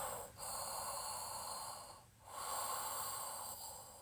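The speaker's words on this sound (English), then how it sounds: "This is called Ujjayi breath or ocean breath." Ujjayi ocean breath drawn through a slightly constricted throat with lips sealed gives a soft, raspy, wave-like hiss, long slow inhales and exhales close up, separated by brief pauses.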